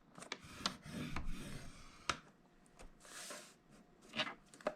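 Paper for a gift card wallet being scored on a scoring board, heard as close, quiet rubbing and scraping strokes with a few sharp clicks and taps, intermittent and uneven, with no voices.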